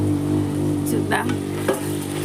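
Food bubbling and sizzling steadily in a pan on the stove, with a couple of brief stirring scrapes, close and continuous.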